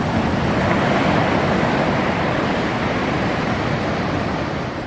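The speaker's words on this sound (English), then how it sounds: "You can see how shallow it is with the outgoing tide forming waves on the sandbanks." Waves break over shallow estuary sandbanks on an outgoing tide at St Lucia, a steady, loud, unbroken wash of surf that fills the whole clip with no voices.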